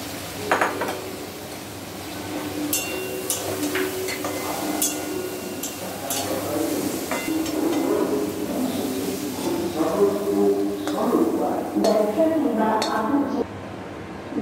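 Fried okra gets lifted out of a hot wok, with metal utensils scraping and clinking against the pan over a soft sizzle, in steady irregular strokes under a voice speaking.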